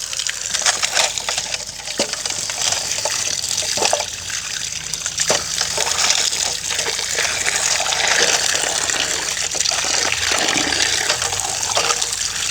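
Water washes over freshly dug homegrown tapioca roots, a steady trickling and splashing flow that runs loud and close throughout without a break.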